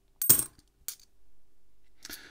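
A few sharp metallic clinks of 50c coins being sorted while searching a coin roll, three short bursts separated by quiet gaps, close and clear.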